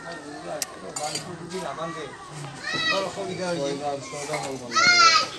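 Dishes and utensils being washed outdoors after a flood in Assam, with metal clinks and clattering under nearby voices, including children's chatter.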